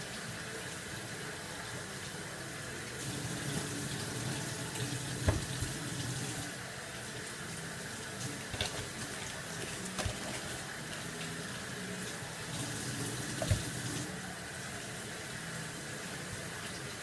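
Turkey wings are rinsed under a running kitchen faucet, giving a steady close rush of water into a sink with occasional louder splashes and knocks throughout.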